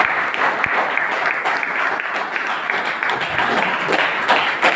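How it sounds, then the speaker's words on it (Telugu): Sustained, loud clapping from an audience at a training session, a dense wash of many hands beating steadily throughout with faint crowd murmur underneath. "ఒకసారి గట్టిగా క్లాప్ చేయాలి"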